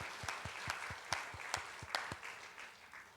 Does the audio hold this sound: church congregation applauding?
yes